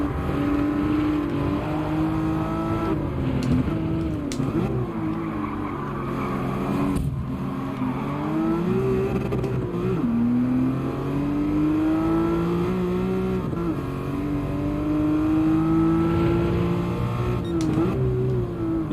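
A race car engine in Gran Turismo 7 revs steadily through gear changes, its pitch sweeping up and dropping sharply at each downshift, loud and close throughout with no voices.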